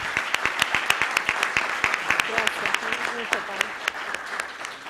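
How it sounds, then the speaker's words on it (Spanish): An audience at an academic conference on social ecology claps for the panel speakers, with sharp individual claps standing out in a lively stream of applause and a voice briefly heard partway through. "Creo que se merecen un aplauso."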